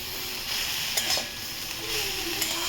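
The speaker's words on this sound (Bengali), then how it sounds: "গোলমরিচটা দিয়ে দিয়েছি, এবার আমি এটাকে ভেজে নেবো ভালো করে।" Broccoli with black pepper fries in a pan, giving a steady close sizzle with light stirring scrapes layered over it throughout.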